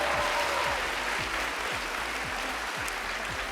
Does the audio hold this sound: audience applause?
yes